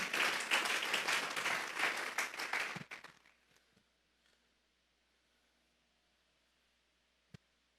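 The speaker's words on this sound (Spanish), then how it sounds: "Denle un fuerte aplauso pues al Señor." Church congregation applause, loud dense clapping for nearly three seconds that quickly dies away into near silence, with a couple of faint isolated knocks and a sharp click afterward.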